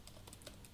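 A few quick, light keystrokes on a computer keyboard while entering an email address into a web contact form, faint and close, with no speech.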